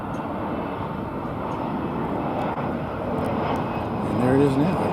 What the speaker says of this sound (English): It's a Mesa Airlines coming in now